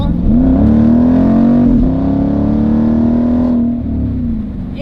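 A loud Jeep SRT8 exhaust holding a deep, steady rumbling rev close by, pitch rising slightly then easing off as it settles.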